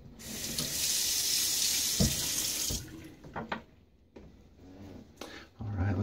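Tap water runs steadily into a sink while a shaving brush is rinsed, a loud hiss for nearly three seconds before it stops, followed by soft handling clatter and a brief renewed splash at the end.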